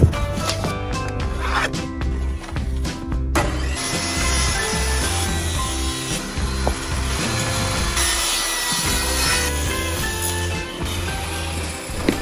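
Old van siding panel, backed with insulation, being cut with a saw during a van conversion: a continuous harsh, rasping cut that runs loud and close for the whole stretch, with no voices over it.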